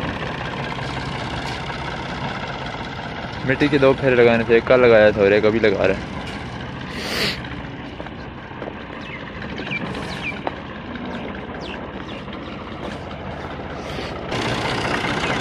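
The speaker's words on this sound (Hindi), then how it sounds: "लेकिन हमारा ट्रैक्टर मट्टी देने जा रहा है और अभी ये स्टार्ट हुआ है" A tractor engine idles after starting, a steady low rumble running throughout, with someone speaking over it and a louder burst of revving or activity partway through.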